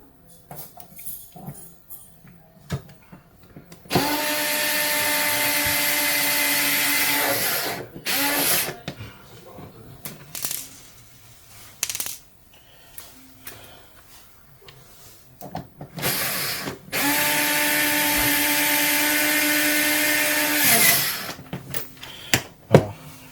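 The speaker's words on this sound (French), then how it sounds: "Et là on va visser tranquillement." A power screwdriver drives screws into parts of a Kyosho MP9 nitro RC car, whining loudly in two long runs of several seconds each, with shorter bursts, handling clicks and faint rustles between them.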